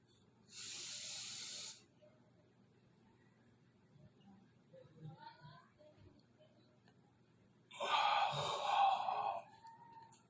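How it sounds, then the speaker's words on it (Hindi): Two long breathy hisses, a steady inhale through the nose, a quiet pause held about five seconds with faint small sounds, then a rougher, louder exhale through the mouth, all close up. "नाक से सांस लें और जितनी देर रोक सके रोकें, या कम से कम 5 सेकंड रोकें और मुंह से सांस छोड़ें"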